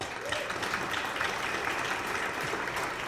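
An audience at a 2016 chamber of commerce awards event applauds a nominee, a full, steady round of clapping from a sizable crowd with faint voices mixed in beneath it.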